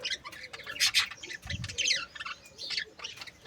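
Sparrows chirp in quick, bright bursts, several birds calling over one another at a fairly quiet level, with a soft low coo slipping in briefly partway through.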